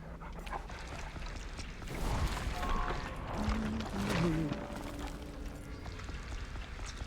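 A dog in the Dead by Daylight video game whimpers and yips in short pitched whines amid low game ambience, the cries clustered in the middle of the stretch, with no speech over them.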